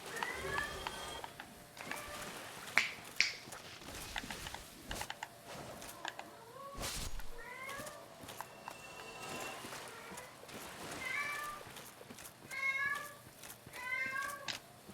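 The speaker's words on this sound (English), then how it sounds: "my cat is meowing in the background" A domestic cat meows several times in the background of a quiet room, short faint calls scattered among light clicks and shuffling.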